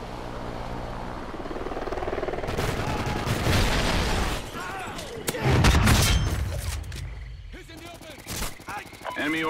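A Hind attack helicopter arriving in the video game Call of Duty: Ghosts: a growing rotor roar mixed with bursts of gunfire and booms, then quieter battle sounds, under game announcer voices.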